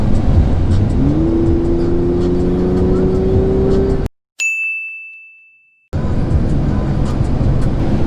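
An Audi S5 on new tires and rear shocks drives along with a loud steady road and engine roar, the engine note rising once, then cut by a sudden silence with a single ding before the cabin rumble returns.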